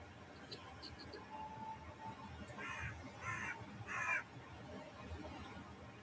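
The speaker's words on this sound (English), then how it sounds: "Hello to the crow." A crow caws a few times, several harsh calls in a quick run, heard faintly at a distance over soft ambient background noise.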